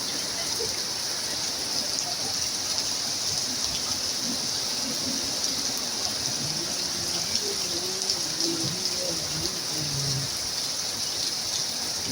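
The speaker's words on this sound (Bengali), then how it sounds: "প্রচুর বৃষ্টি হচ্ছে" Heavy rain pours steadily around Najipur in Patnitala, a dense constant wash of sound with a faint low murmur of voices partway through.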